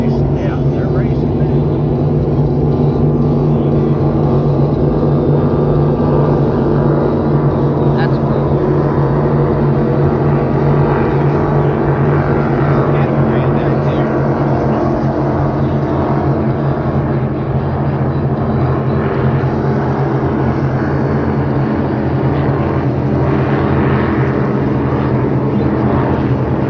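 Racing boats running at over 100 mph on a course in Missouri, a loud continuous engine drone with a steady low rumble throughout, heard from nearby.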